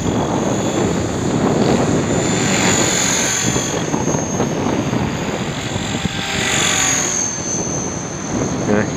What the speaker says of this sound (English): Anyway, this is a great little helicopter.